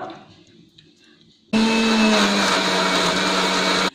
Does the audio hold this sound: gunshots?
no